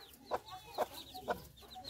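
A hen clucks near her ten chicks, giving four soft, evenly spaced clucks at a gentle distance while faint high peeps and a light background hiss run underneath.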